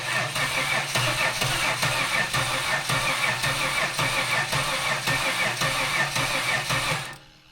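A supercharged L67 V6 swapped into a rear-wheel-drive car cranks continuously without catching, a loud, rhythmic starter whir that runs for several seconds before cutting off.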